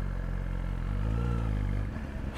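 A Suzuki GSXR 1000 motorcycle pulls away in first gear, its engine a loud, steady, close-up drone with a slight rising pitch and no talk over it.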